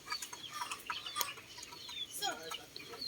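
Hens in a chicken farm nest, clucking softly and intermittently in short bursts, with a few sharper calls among faint background rustle; no talking.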